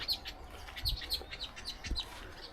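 Several short, high bird chirps repeat at a steady pace over faint outdoor background, with a couple of low thumps mixed in.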